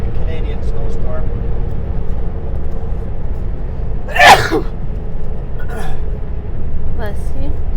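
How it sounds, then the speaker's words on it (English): One sharp sneeze bursts out inside a truck cab on snowy, icy Highway 33 out of Kelowna, loud and close over steady engine and road rumble. "Just a single sneeze today."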